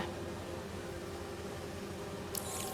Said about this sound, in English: Harry says you're working with bees.